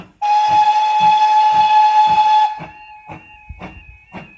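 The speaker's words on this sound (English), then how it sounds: "can you believe they've still got steam trains?" A steam train on a private railway near Dunster station gives one long, loud, piercing whistle close by, followed by rhythmic puffing chuffs as the locomotive works.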